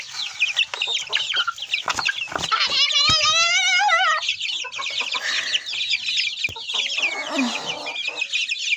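A flock of chickens clucks and squawks busily and continuously, with a rooster-like call rising in the middle and voices faintly mixed in.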